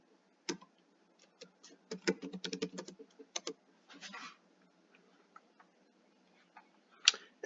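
Typing on a computer keyboard at close range, with scattered single key taps, short quick bursts of clicks and pauses between them.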